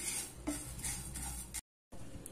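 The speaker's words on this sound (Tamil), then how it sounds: "இப்போ நான் முதல்ல இந்த 50 கிராம் அளவுக்கு இருக்கிற இந்த மல்லியை போட்டு வறுத்துக்கலாம்." Fifty grams of coriander seeds are dry-roasted in a pan over a medium flame, with a spoon scraping and clinking against the metal in a quick irregular series of taps and rattles, cut off briefly by a short silence, with no voices.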